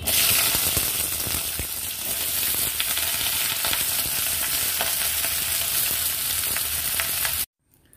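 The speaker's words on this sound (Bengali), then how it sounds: "পরিমাণ মতন লবণ, হলুদ, ধনে পাউডার, জিরে পাউডার দিয়ে সবজিগুলো বেশ কিছুক্ষণ ভালো করে নাড়াচাড়া করে ফ্রাই করে নেব।" Mixed vegetables sizzle loudly in hot oil tempered with panch phoron and dried red chilli for a Bengali jhol, with a constant close crackle and scraping stirring strokes until the sound cuts off abruptly near the end.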